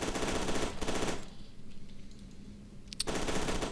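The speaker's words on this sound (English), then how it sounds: "This is just a submachine gun." Submachine gun fire in the F.E.A.R. 2: Project Origin shooter game, two loud sustained bursts of rapid shots separated by a quieter gap, with a sharp single shot near the end before the firing resumes.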